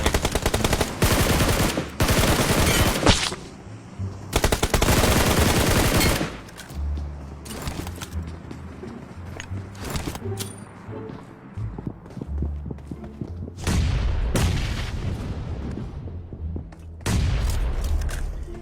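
Bursts of automatic gunfire in PUBG Mobile, rapid loud volleys in several separate clusters with quieter gaps of footsteps and movement between them, and a few distant shots scattered through.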